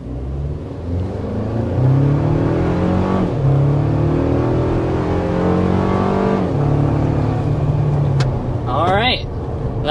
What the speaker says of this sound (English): that was up to about 60 miles per hour in the new Tacoma with the turbo